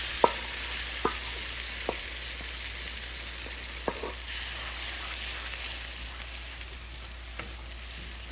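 Unripe garden-grown green tomatoes added to a pan fry with a steady soft sizzle, punctuated by occasional light pops and clicks of stirring.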